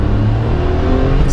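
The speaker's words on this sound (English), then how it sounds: "we're gonna do a little acceleration of our like Ferrari van" A 1994 Honda Acty van with its first fuel-injected engine, warm and accelerating: a loud, close, steady engine drone with rising low rumble and no talk over it.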